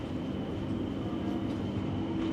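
A Frecciarossa 1000 high-speed train on the Naples to Venice route gives off a steady, loud rumble with continuous rolling rail noise, heard close with no voices.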